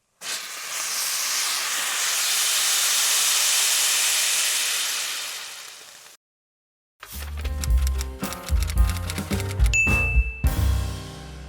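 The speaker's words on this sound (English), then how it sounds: "the sound of the bubbles fizzing when you open a can of Coca-Cola" A loud hiss of fizzing carbonation from an opened can of Coca-Cola swells and fades, followed by a pause, then clinks and crackling bubbles with a bright ding, close by.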